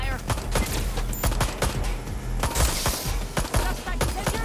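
Rapid gunfire in Watch Dogs Legion, a close, loud string of sharp shots in an irregular volley, with voices talking over it.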